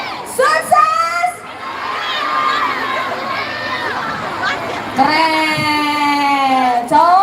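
A crowd of children cheers and shouts loudly in sustained bursts, with high whoops rising over the noisy din and a fresh swell of yelling near the end.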